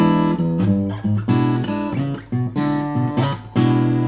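An acoustic guitar plays a choppy fingerstyle blues rhythm, strummed chords and walking bass notes alternating in a steady shuffle, clear and alone.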